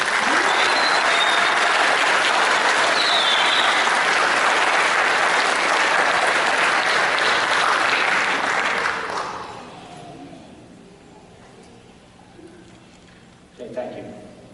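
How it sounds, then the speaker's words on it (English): A large audience at a police academy graduation applauds loudly and steadily for about nine seconds, then the clapping dies away into a quiet hall with a brief stir of noise near the end. "Everyone a big round of applause."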